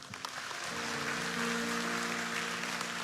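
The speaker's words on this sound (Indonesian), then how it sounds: "kasih tepuk tangan untuk Tuhan Yesus" A church congregation claps together in sustained applause, a dense, even patter of many hands that holds steady for several seconds, with a faint sustained musical tone underneath.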